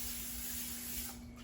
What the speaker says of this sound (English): spray the air fryer basket with a non-stick cooking spray